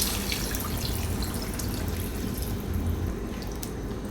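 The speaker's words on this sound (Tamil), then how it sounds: "இப்போ இந்த கிரேவிக்கு தேவையான அளவுக்கு தண்ணி சேர்த்துக்கலாங்க." Water pours steadily into a pot of meal maker gravy, a continuous splashing, gurgling rush close by with no voices.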